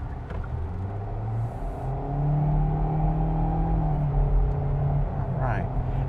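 A 2026 Kia Seltos EX SUV with a 2.0 L four-cylinder accelerating on the road in normal mode, heard from inside as a steady low engine drone that rises and thickens partway through, continuing smoothly.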